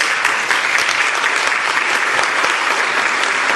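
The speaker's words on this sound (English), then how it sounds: "Give her a clap." Audience at an executive onboarding event applauding a speaker, a dense, steady wash of many hands clapping throughout, loud and close with no pause.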